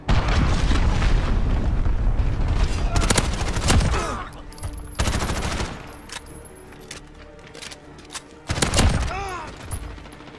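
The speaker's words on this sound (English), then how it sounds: "Allied cruise missile away" Allied cruise missile strike in the video game Modern Warfare: heavy booming blasts and rolling explosions mixed with bursts of gunfire, loud and dense, several impacts landing in quick succession.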